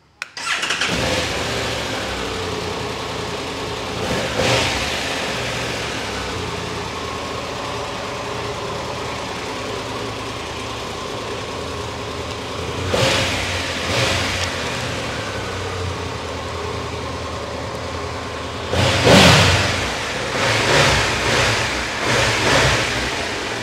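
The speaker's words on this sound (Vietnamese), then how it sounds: "Nghe động cơ của dòng Adventure" A Triumph Tiger 1200 GT Pro adventure motorcycle fires up and settles into a steady idle nearby, broken by several sharp throttle revs spaced through the recording, with no talking.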